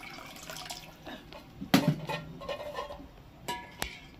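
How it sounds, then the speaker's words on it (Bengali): Water is poured into a pot for boiling eggs, with soft splashing, trickling and a few drips, fairly quiet, with a couple of sharper knocks and no talking. "তার জন্য এখানে জল দিয়ে দিচ্ছি"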